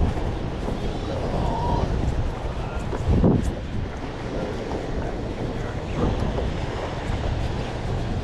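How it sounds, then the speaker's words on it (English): Wind and ocean waves out on the water aboard a fly-fishing boat off Cape Cod, a steady broadband rush with buffeting wind noise on the microphone and a brief louder surge midway. "There's some waves out here"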